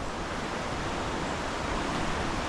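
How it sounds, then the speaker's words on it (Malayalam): A river flows just above Pathankayam waterfall, a dense, steady rushing roar of water that stays even throughout with no voices. "ഇതാണ് നമ്മുടെ പതങ്കയം വെള്ളച്ചാട്ടത്തിന് നേരെ മുകൾ ഭാഗത്തുള്ള പുഴ ഒഴുകി വരുന്ന കാഴ്ച"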